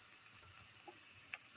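Chickpea flour batter for black pepper duck fritters frying in oil, a faint, steady hiss and sizzle with a few small pops, heard alone.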